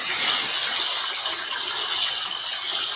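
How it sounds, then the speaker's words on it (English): Steady, broad rush of flowing water plays continuously and evenly at moderate loudness during a water ceremony, with no voices over it. "I'm going to play the music of the water"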